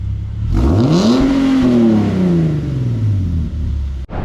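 A Nissan 370GT engine fitted with an Invidia Gemini exhaust starts and revs, its pitch sweeping up then settling into a slowly falling idle, loud and close, with a sharp click near the end.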